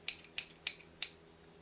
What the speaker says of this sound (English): I got scissors and I'm afraid to use them